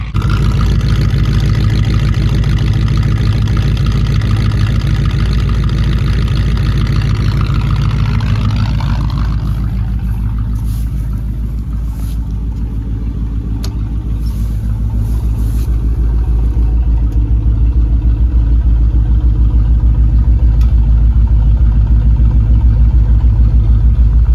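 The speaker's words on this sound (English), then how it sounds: "you cannot complain about this sound, because it does sound awesome" An old car engine idles loudly after starting, with a deep steady rumble that shifts pitch and eases slightly partway through before settling back into a strong, continuous close-up idle.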